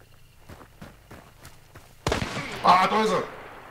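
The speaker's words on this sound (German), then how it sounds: "Ich höre Schritte." Footsteps in the online shooter Hunt: Showdown, a run of soft, evenly spaced thuds in the first half, followed by a louder burst of gunfire and clatter with talking over it.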